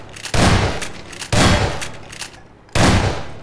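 Gunfire from Half-Life 2 cracks out in three loud, close bursts about a second apart, each with a short ringing decay before the next.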